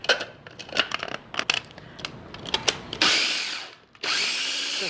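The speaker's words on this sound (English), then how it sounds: "You can again just coarsely cut these up and put these into the processor." A food processor works on mint leaves with salt and pepper: a quick series of sharp chopping pulses, then two longer loud whirring bursts of the blade running, close by and without talk.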